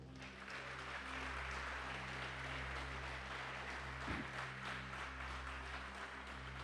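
Church congregation applauding during a sermon, a steady, moderately distant wash of clapping over a low hum.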